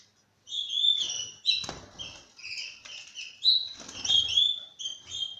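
Young canaries chirping indoors: thin, high, repeated tweets and short calls close by, with light scuffling and fluttering sounds between them and no talk.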